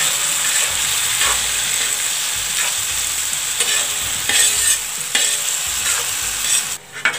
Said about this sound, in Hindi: अब इसमें हम टमाटर डाल देंगे, ये मैंने 5-6 टमाटर काट लिए हैं, इसे भी अच्छी तरह से हम मिक्स कर लेंगे